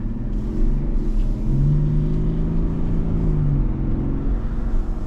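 A 2024 GMC Yukon Denali Ultimate with the Duramax diesel engine pulls hard on boost, giving a loud, steady low drone that swells slightly as it accelerates, heard from the cabin with no talking.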